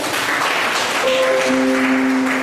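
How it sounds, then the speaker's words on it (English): An audience at a community meeting in Tripoli, Libya claps in a steady, moderately loud wave of applause, joined midway by a sustained tonal hum or whistle-like sound running beneath it. "The Malian community, a round of applause."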